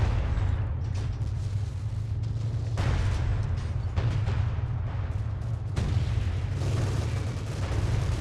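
Artillery barrage in the Company of Heroes 2 World War II strategy game: a continuous roar of heavy booms and rumbling explosions, loud and sustained throughout, with renewed blasts landing every few seconds.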